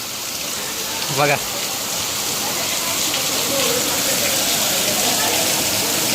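Heavy rain pours down steadily, a dense unbroken hiss that holds from start to finish, with one brief spoken word near the beginning.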